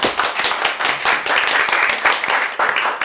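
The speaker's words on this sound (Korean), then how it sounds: "큰 박수로 시작하겠습니다." A crowd at a Korean book talk on taxes gives loud, sustained applause to open the event, dense overlapping claps close by and filling the room.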